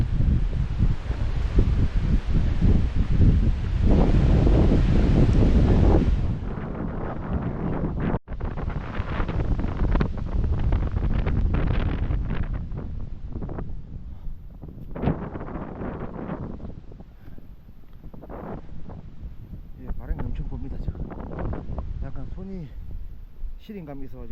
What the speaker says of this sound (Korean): 아 바람 많이 부네